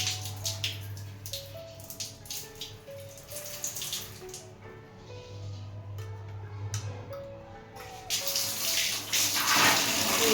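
Hot water runs from a geyser tap in a steady splashing rush that swells louder toward the end, with faint tonal sounds in the background.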